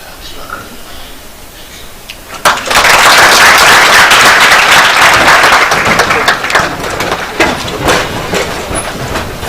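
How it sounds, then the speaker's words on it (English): Lecture audience in a Supreme Court of Kenya lecture series bursting into loud applause after a quieter stretch of room noise, sustained dense clapping with sharp individual claps standing out. "I think that clap is not enough for my Lord."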